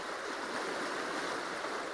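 A large, deep, fast-flowing stretch of the River Tweed rushing past a foggy riverbank, heard as a steady, dense broadband roar of moving water close by, unbroken for the full two seconds with no voices.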